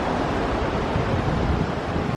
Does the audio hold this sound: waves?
yes